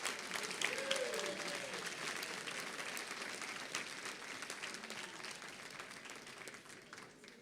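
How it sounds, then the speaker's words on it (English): Sustained loud applause from the audience at a school board meeting for middle school winners, a dense even wash of clapping with a few faint voices underneath, tapering slightly toward the end. "Now we can please have one loud round of applause for all of our middle school winners."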